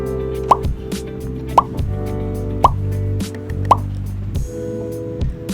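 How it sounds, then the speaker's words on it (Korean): Acrylic paints are squeezed out one after another onto a paper palette, giving four evenly spaced soft plopping squirts and a fainter fifth near the end, each close and distinct over a quiet background with low music. "아크릴 물감을 열고 종이 팔레트를 준비해줍니다. 모든 컬러를 하나씩 다 짜주세요."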